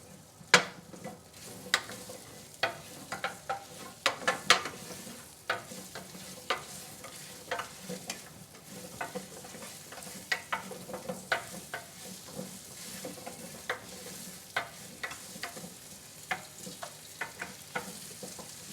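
Parsnips sizzle gently in coconut oil in a pan, with frequent soft clicks and scrapes of stirring scattered throughout at a moderate, close level and no talking.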